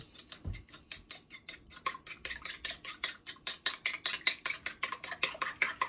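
Egg being whisked into sour cream in a bowl, a rapid, steady run of close metallic clicks and taps against the dish, growing a little louder and more regular toward the end.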